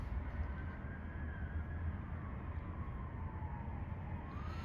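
Fire engine sirens, from a ladder truck and a regular fire unit, wail faintly in the distance in Los Angeles streets near a downtown hotel, a thin rising and falling tone over steady low city traffic rumble.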